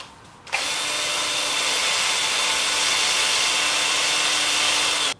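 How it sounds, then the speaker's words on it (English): A power sander runs steadily on a live-edge plum wood bowl at a workbench, switching on abruptly and holding a loud, even whine for about five seconds before cutting off. "And then I'll take it over here to the workbench and sand that up."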